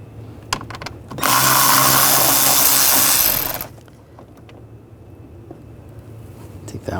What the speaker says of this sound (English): Using a T25 socket, we're going to take these screws out.